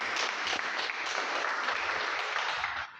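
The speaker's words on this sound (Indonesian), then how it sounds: "kita tepuk tangan untuk kedua teman" Students in a classroom applaud two classmates, a dense patter of clapping hands that holds steady for about three seconds and then tapers off at the end.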